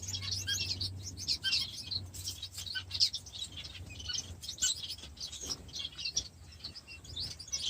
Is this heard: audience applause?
no